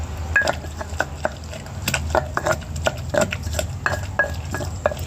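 A pestle pounds fresh chilies and tomato in a mortar. Light, irregular knocks and clicks of wood or stone come close and clear, with no voices over them.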